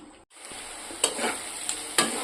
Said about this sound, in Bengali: পেঁয়াজটা দেখছো যে ভাজা হয়ে গেছে মোটামুটি